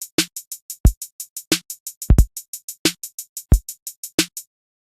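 Drum group loop with a busy swung hi-hat pattern over straight, unswung kick and snare hits, clear and up close with no voices.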